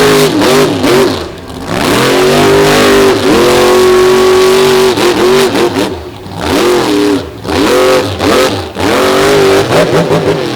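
Monster truck Stone Crusher at a beachside monster truck show revs its engine hard and loud, the roar rising and falling in repeated surges with brief dips between bursts.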